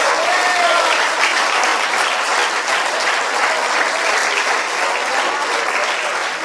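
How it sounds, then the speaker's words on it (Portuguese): A church congregation applauds enthusiastically after prayer, loud continuous clapping filling the hall at an even level with a few voices mixed in. "Você pode aplaudir ao Senhor pela sua palavra agora, mas aplauda com vontade."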